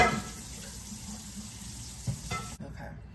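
A skillet is rinsed under a running tap in a home kitchen sink, a steady hiss of splashing water with a few clinks of the pan before the flow stops abruptly.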